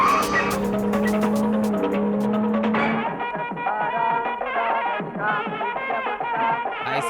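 A car pulls away with squealing tires: a long, loud screech gives way to a revving engine and further skidding, close and continuous throughout.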